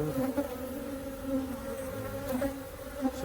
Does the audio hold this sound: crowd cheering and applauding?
no